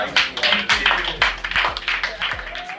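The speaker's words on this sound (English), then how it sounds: "Can I get a round of applause?" A class gives a short round of applause: dense, quick hand claps lasting a few seconds, mixed with voices.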